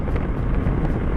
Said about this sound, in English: but it is so crazy windy right now